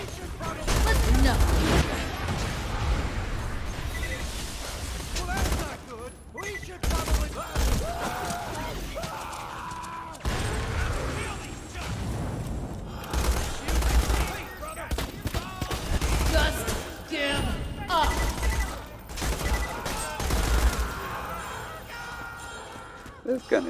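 Rapid gunfire from a gun in Borderlands 2, dense bursts of shots running almost without a break, loud and busy, with someone talking over the game sound at times.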